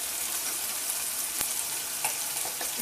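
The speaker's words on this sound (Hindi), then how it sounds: "और इसी के अंदर मैं ये कसूरी मेथी भी फ्राई कर दूंगी।" Dried fenugreek leaves frying in oil make a soft, even hiss broken by a couple of sharp little crackles, close and unaccompanied by voices.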